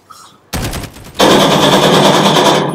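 Automatic machine gun fire in the video game Call of Duty Warzone, loud sustained bursts of rapid shots close up, starting after a brief quiet moment and continuing without pause.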